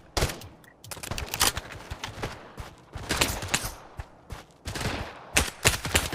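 Rapid bursts of shotgun fire in a multiplayer video game with teammates using shotguns, including dual-wielded ones; sharp blasts come in clustered volleys with brief gaps, loud and close throughout.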